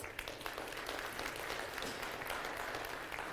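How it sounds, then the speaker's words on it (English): Faint, steady applause from an audience at an aerospace society event, a dense wash of clapping hands for panel guests heard from a distance throughout. "One more applause for our guests."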